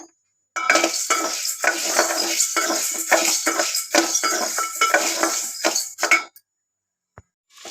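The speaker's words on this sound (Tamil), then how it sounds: "கொள்ளு பருப்பு வந்து ஒரு கால் கிலோ அளவு எடுத்துருக்கேன் ஸோ இதை நம்ம நல்லா வறுத்து எடுத்துக்கலாம்" Quarter kilo of horse gram dry roasted in a pan, the dry seeds rattling and scraping continuously under a stirring utensil for several seconds, metal clinks throughout, then a short quiet pause near the end.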